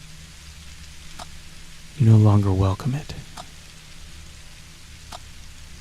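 Soft drizzling rain in the horror visual novel Without a Dawn, a faint steady hiss running throughout beneath a narrator's voice, which briefly swells loud in the middle.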